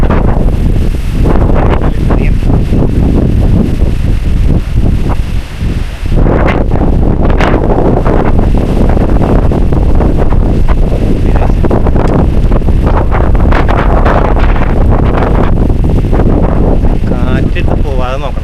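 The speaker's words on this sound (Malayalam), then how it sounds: "കാറ്റ് വരുന്നുണ്ട്." Strong wind blows steadily across an open mountain trail on the Agasthyarkoodam trek, roaring and buffeting the microphone loudly from start to finish.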